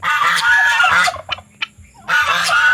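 Free-range Rhode Island Red chickens squawk loudly and close by in two long raucous bursts, with a few short sharp calls in the quieter stretch between them.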